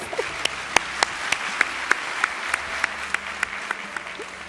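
Awards ceremony audience of a film critics association applauding a director's arrival: steady sparse clapping with a few sharp, distinct claps standing out at a regular pace, moderately loud.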